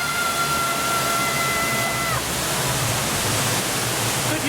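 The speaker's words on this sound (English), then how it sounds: "They've got their waterfall here." A theme park waterfall at Thorpe Park rushes in a loud, steady, broadband roar that fills the whole stretch without pause, with a faint tone fading out early on.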